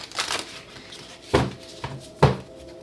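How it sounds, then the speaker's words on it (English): A tarot deck being shuffled by hand: a soft riffle at the start, then two sharper card slaps about a second apart, close up and quiet with no talking. "Let's get 2 more shuffles."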